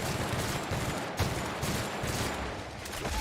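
Sustained gunfire from a weapon in the video game Outer Worlds, a dense continuous burst of shots filling the whole stretch at steady loudness, with no talking over it.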